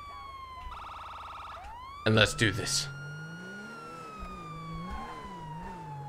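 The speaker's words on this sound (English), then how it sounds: "Let's turn on the sirens." A police car siren in the GTA 5 game starts up, with a short electronic tone, a brief loud burst, then a long rising wail settling into a steady warbling cycle, while someone speaks briefly.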